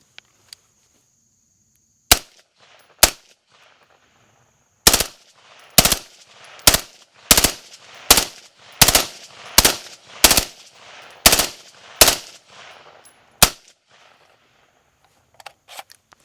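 Rifle chambered in 300 Blackout firing with a metal DuraMag magazine: two shots, a pause, then a rapid string of about ten loud sharp reports in fairly even rhythm, with a few faint clicks afterward.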